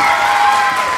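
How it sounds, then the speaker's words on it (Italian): A short, loud burst of audience applause at a school Christmas show, dense and continuous, with a steady tone humming underneath. "Un applauso anche per lei"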